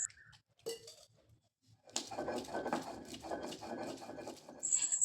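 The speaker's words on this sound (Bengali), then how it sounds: "এবার প্লেটে তুলে নিয়ে সরিষে, লঙ্কা এবং চীনাবাদামগুলো বেটে নেব" Mustard seeds, chili and peanuts are crushed on a grinding stone, making a steady close scraping and grinding rasp that starts after a few small clinks.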